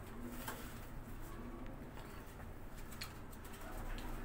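Domestic high-flying pigeons coo softly at a rooftop loft, faint throaty calls repeating over a steady background hiss.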